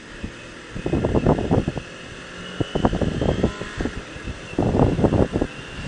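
Exhaust of a 2020 Kawasaki Ninja Z400 motorcycle while riding, a grumbling note that rises in three pulsing bursts over a steady background of wind rush.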